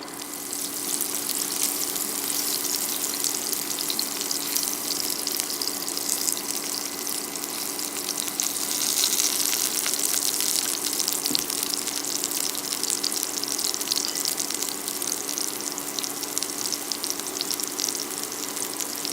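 Steady, loud sizzling and hissing as water is added to a hot pot of king oyster mushrooms, continuous and unbroken, with no voices.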